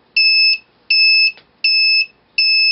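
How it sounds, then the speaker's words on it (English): A laser detector circuit's alarm sounds four loud, evenly spaced electronic beeps, each a steady two-tone tone lasting about half a second. "that's when the alarm starts sounding"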